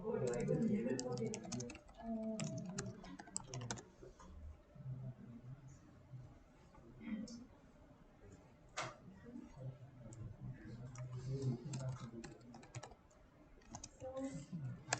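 Quick, light clatter of fingers typing on a computer keyboard, faint and fairly close, running on and off beneath people talking.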